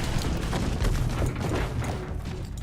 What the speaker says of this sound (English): like from the little stun grenades, or not stun grenades, HE grenades.